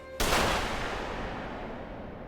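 Gunfire in an anime action scene: a sharp blast opens the clip, then a dense, loud wash of shots and echoing debris trails off slowly without a break, with no voices.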